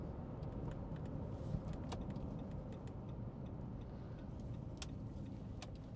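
A 2014 Nissan Pathfinder with a CVT shudder fault drives along, heard from inside as a steady low engine and road rumble, with faint ticking clicks on top.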